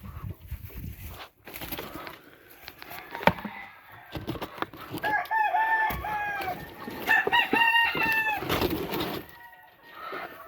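Chickens and roosters in outdoor cages during morning chores on an off-grid Michigan homestead, a busy mix of clucks and several loud crows rising over scattered clatter and handling noise.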